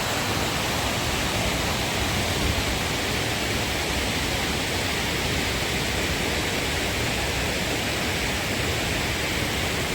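Palakuzhy waterfall in forest surroundings gives off a dense, steady rushing roar, loud and unchanging throughout with no voices.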